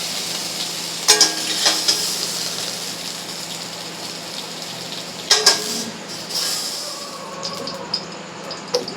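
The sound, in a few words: potatoes frying in fish oil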